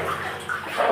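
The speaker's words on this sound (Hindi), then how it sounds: "ये देखिए कुएं का झरना चल रहा है" Water flowing from a spring inside a deep, 400-foot dug well, a steady broadband rush and slosh that swells slightly toward the end, heard close with no talking.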